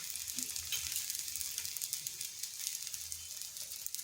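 An egg paratha fries in a pan over slow to medium heat, giving a steady close sizzle and crackle with occasional stirring scrapes and no talking.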